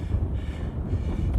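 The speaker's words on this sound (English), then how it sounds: "Very windy now though" Strong wind buffeting the microphone on a windy day during a bike ride, a steady low roar throughout with gusty swells, close and loud, with no talking.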